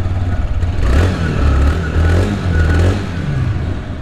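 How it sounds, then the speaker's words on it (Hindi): A 2023 TVS Raider 125 motorcycle engine revs up and settles in a few throaty swells, its exhaust note rumbling loud and close with no talking. "अब इन दोनों बाइक का जो है एग्जॉस्ट नोट आपको सुनाते हैं"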